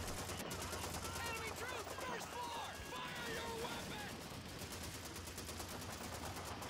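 Dense gunfire from a Call of Duty 2 battle for Hill 400, steady rattling shots layered with game noise and faint voices throughout.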